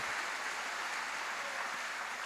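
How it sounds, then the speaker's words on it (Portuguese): A church congregation applauds steadily throughout, a dense and even wash of clapping heard from inside the hall with no pauses. "Vamos receber pastor Carlos Silvério aplaudindo do Senhor"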